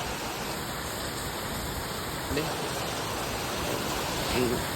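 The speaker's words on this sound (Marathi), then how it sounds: "आता पाऊस पडतोय लय जोरात" Dense, steady hiss of heavy rain pouring continuously, loud and close, with a faint voice briefly audible underneath.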